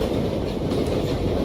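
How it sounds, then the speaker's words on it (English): A real train rolls past at close range, a loud steady rumble of wheels on rail with rhythmic clickety-clack throughout. "It's a real train."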